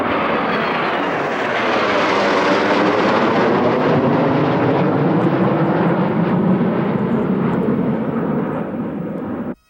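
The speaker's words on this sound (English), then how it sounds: "They are honored by a Royal Air Force honor flight." A Royal Air Force honor flight passes overhead at a memorial ceremony, the aircraft engine roar swelling and sweeping in pitch, loud and sustained before cutting off.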